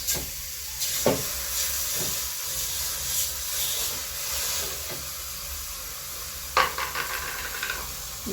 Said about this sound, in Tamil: இப்போ சிக்கன் உள்ள போட்டுக்கலாங்க லெக் பீஸ்